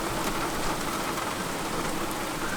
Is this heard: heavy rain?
yes